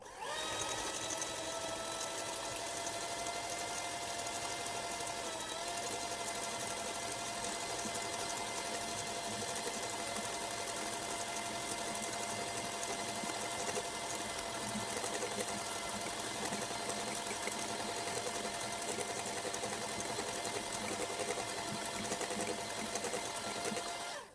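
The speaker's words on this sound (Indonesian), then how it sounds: "Kita mixer ini sampai pucat putih mengembang kental selama 2 menit dengan kecepatannya yang tinggi ya." Electric hand mixer whipping eggs at high speed for a banana sponge cake, a loud steady motor whine that holds unbroken for the full stretch, close to the microphone with no talking.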